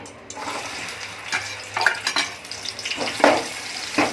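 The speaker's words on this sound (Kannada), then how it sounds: "ಎಣ್ಣೆ ಬಿಸಿ ಆದಮೇಲೆ ಕಟ್ ಮಾಡಿ ಇಟ್ಕೊಂಡಿರೋವಂಥ ಈರುಳ್ಳಿ ಹಾಕ್ಕೊಳ್ತೀನಿ." Chopped onions frying in hot oil for a Kannada mutton gravy, a moderate crackling sizzle with intermittent stirring scrapes and clinks of a utensil against the pan, close by, with no talk.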